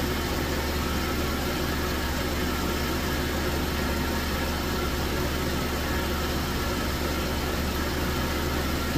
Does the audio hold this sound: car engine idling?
yes